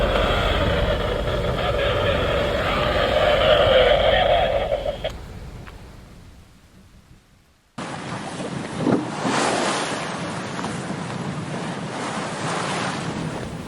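Wind gusts and rushing ocean waves surround an offshore sailboat moving at about 8 knots near the Gulf Stream, loud and steady with a drop to near quiet midway before the roar returns.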